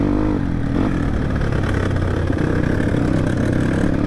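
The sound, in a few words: motorcycle approaching on an off-road trail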